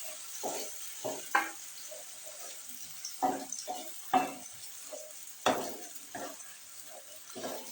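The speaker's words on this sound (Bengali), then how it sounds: "টক দইটা দিয়ে একটু নাড়তে হবে।" A spoon stirs whisked sour yogurt into fried spice paste in a pan for navratan paneer, giving repeated short scraping strokes over a steady close sizzle.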